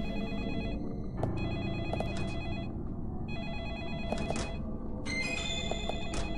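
An old-style telephone bell rings repeatedly in Deadly Premonition, sounding in bursts over a steady ambient game background with no talking.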